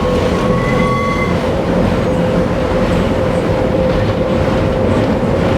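A hillside tram in Turin rolls along its rails with a steady, loud rumble and vibration, a sustained hum running throughout and a brief metallic ringing squeal near the start, with no talk.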